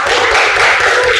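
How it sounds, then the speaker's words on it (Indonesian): A classroom of students clap their hands together, a dense, steady patter of many hands close by that fills the whole short moment without a break. "Oke, tepuk tangan dulu."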